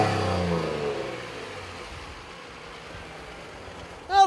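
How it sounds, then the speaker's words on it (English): A 2014 Nissan Frontier Pro-4X pickup's VQ-series V6 is revved, with a loud, strong note at the start that winds down and fades into a low steady idle, followed by a brief sharp noise at the very end. "this is one of the Nissan VQ series engines"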